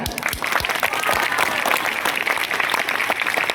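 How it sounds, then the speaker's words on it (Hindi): Audience applause at a school block-level debate competition, a dense, steady wash of many hands clapping close and loud for the full stretch, with a few sharper individual claps near the start. "जोरदार ताली हो जाए।"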